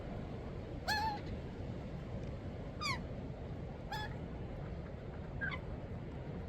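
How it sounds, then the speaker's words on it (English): A young albino magpie gives four short, rising squawking calls spaced a second or so apart, heard at moderate distance over a constant rumbling background outdoors. "Magpies sound like that when they're very young."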